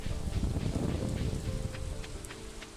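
Steady rain falls in Stardew Valley, a soft broad wash of drops that holds evenly throughout, with a few faint tick-like splashes scattered over it.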